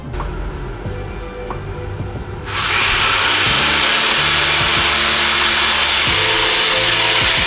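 A jigsaw cuts wood for a car center console, starting abruptly partway through as a loud, steady, harsh buzz that continues to the end after a quieter stretch of background noise.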